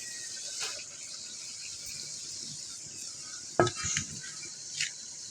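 Small kechki fish cooking in a pan over a clay stove, giving a faint, steady sizzling hiss with a few soft utensil clinks and scrapes.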